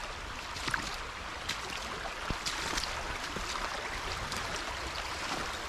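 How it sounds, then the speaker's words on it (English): A creek flows steadily on a cold morning walk, giving a continuous soft, even rush of water heard from a short distance with no voices. "listen to how the creek flowing"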